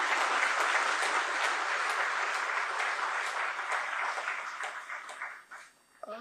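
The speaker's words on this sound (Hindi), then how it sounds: "एक बार सब लोग मुख्यमंत्री जी का ताली बजा के स्वागत करेंगे।" An audience at a government health-services event claps for the chief minister, dense sustained applause that fills the room and then thins out and fades near the end.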